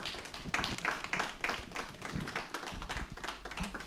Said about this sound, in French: Vos applaudissements ne sont pas à la hauteur de ce qu'on vient de lire pour encourager